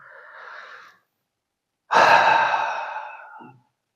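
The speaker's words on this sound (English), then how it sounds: "take a deep breath now" A deep breath during a relaxation exercise: a soft inhale near the mic, a short pause, then a longer, louder sighing exhale that trails off, with no talking.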